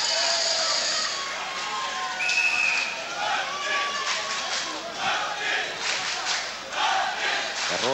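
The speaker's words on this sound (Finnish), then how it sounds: "Ja ruotsalaisyleisö saa nyt vähän äänestä päätellen tukea myös muilta" A wrestling world championship crowd cheers and shouts for Swedish wrestler Lindberg in a large arena, loud, surging bursts of yelling voices that swell and dip throughout.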